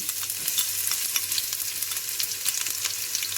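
A small onion fries in about a tablespoon of hot oil in a pan for chicken bread rolls, giving a dense, even, bright sizzle with faint crackles throughout, close up and with no talking.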